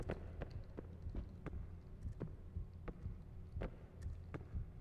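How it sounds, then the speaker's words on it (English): A heartbeat-like throb pulses in a steady rhythm of soft low thuds, roughly two per second, over a low hum in a horror game setting about a lunch lady. "I hear the heart beating."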